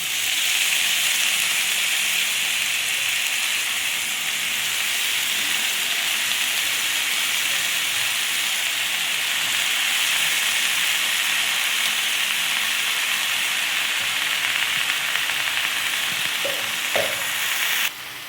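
Mushrooms fry in hot oil in a pan with a dense, steady sizzle and hiss that carries on throughout, close and even, with a couple of brief clinks near the end and no speech.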